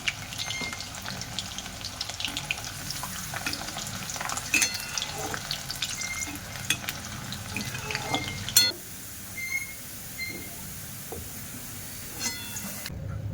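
Steady frying sizzle of garlic and dried red chillies in oil with occasional clinks and stirring, close and continuous, fading slightly after a sharp clatter midway.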